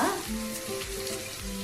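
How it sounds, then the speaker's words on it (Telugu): Onions fry in a pan for fish curry, browning with a steady close sizzle and soft stirring scrapes throughout, no voices present. "ఉల్లిపాయలు బాగా కొంచెం బ్రౌన్ అయిన తర్వాత"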